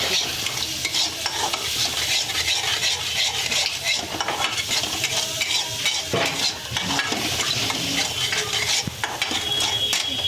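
Ground chili, turmeric, coriander and cumin with salt being stirred and fried in a pan for a fish curry in a village kitchen, a continuous close sizzle with steady scraping of the spoon throughout.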